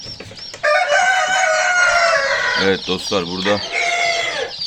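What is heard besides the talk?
chickens clucking and rooster crowing, Wyandotte and other breeds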